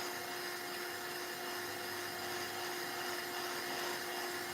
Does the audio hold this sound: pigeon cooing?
no